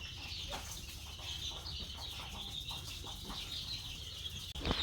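Young Sonali chicks on a farm peep in a constant high chorus, with occasional soft rustling and flutters beneath the steady chirping.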